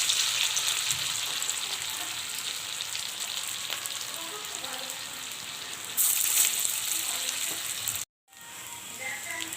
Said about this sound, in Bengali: এবারে কড়ায় তেল দিয়ে আমরা এগুলোকে বড়ার আকারে ভেজে নেব।